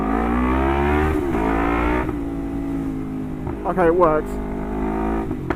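A Lexmoto LXR380 motorcycle engine runs close and loud, holding a steady rumble with a couple of revs rising and falling, while a voice speaks briefly over it.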